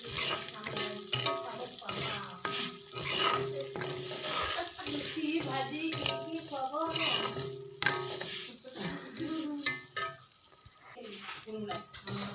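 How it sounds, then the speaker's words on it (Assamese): Rice sizzling and being stirred in ghee in a pan, a steady frying crackle with repeated scraping and clinking of the spoon against the pot, fairly close throughout. "ল'ম মই এতিয়া ঘিখিনিতে ভাজি আছোঁ চব"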